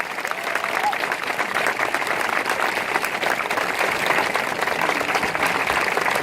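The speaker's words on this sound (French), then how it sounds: "On peut les applaudir encore une fois." Theatre audience applauding steadily after a performance, a dense, even wash of many hands clapping at moderate loudness from start to finish.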